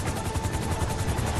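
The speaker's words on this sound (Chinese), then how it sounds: "直升机已经开过来了" A helicopter in the GTA 5 video game thrums with fast, steady rotor pulses, loud and close, over a short stretch.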